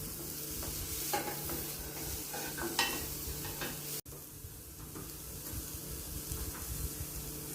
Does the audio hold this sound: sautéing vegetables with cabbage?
yes